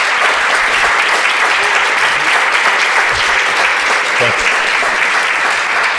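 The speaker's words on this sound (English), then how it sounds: "please give a big applause also to Christian Undal" Audience at a panel discussion on European defense policy applauds vigorously, a loud, sustained burst of clapping that holds at an even level throughout.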